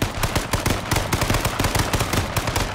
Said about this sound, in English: Somebody just shot.